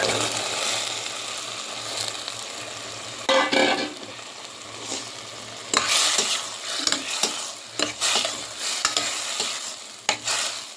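Bean seeds fry in a pan while being stirred and browned. A low sizzle runs throughout, broken by repeated scraping strokes of the spoon against the pan, close and clear with no talking.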